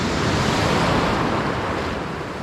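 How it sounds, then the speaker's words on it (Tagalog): Ocean waves surge and crash steadily against a shore where people are fishing for trevally, a continuous loud roar of surf with wind buffeting the microphone and no pauses. "Parang iba yung sampa ng alon."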